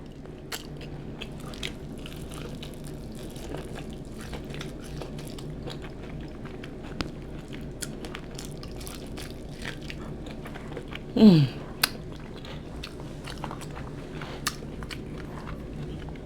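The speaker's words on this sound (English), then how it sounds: "you don't realize how long you chew until you're on camera" Quiet, steady chewing of deshelled seafood, with soft wet crunches and clicks repeating close to the mouth over a long stretch, and one louder bite partway through.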